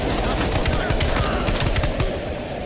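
Rapid automatic gunfire in Call of Duty: Black Ops Cold War, set in East Berlin, a dense burst of loud close shots for a couple of seconds.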